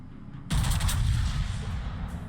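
Ship guns fire in World of Warships as a sudden, loud, sustained barrage of booming gunfire that breaks in after half a second of quiet and rumbles on heavily to the end.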